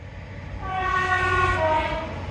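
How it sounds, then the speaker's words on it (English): A passing train sounds a long, steady horn that swells louder and then holds, with a low rumble of the rail cars running underneath throughout. "I think we've also got a train."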